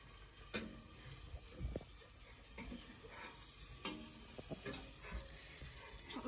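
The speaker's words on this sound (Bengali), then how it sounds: "এখন চিকেনটাকে হালকা ভেজে নিতে হবে।" Chicken fries in a pan for a Thai soup while being stirred, giving a faint, steady sizzle broken by scattered scraping and clinking knocks.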